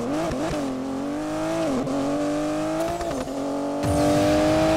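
A powerful V12 biturbo Aston Martin DB11 engine in Need for Speed Payback drones steadily at high revs, pitch rising and dipping with gear changes, then swelling louder near the end.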